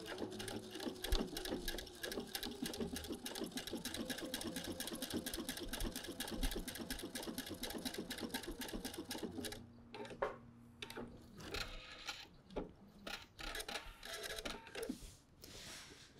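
A sewing machine stitches a bar tack across a fly front zipper, running in a fast steady whir of needle strokes for most of the stretch, then breaking into shorter bursts and pauses near the end.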